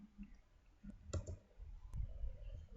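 A computer keyboard being used to type a web address, heard as a few faint, scattered key clicks against a quiet background.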